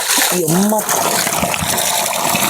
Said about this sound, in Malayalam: എത്ര വേനയ്ക്കും ഈ വെള്ളം ഇതേ ഫോഴ്സ് ഇവിടെ വന്നുകൊണ്ടിരിക്കും